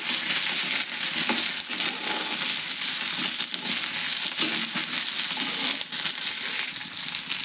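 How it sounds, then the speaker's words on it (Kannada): Chopped okra frying in hot oil while a spoon turns it, producing a loud, steady, close crackling sizzle with scraping stirs mixed in, uninterrupted and without speech. "ಈಗ ಚಮಚ ತೊಗೊಂಡು ತಳಗ ಮೇಲೆ ಮಾಡೋಣ್ರಿ. ಇದು ಎಣ್ಣೆ ಒಳಗೆ ಫ್ರೈ ಮಾಡೋಣಂತ."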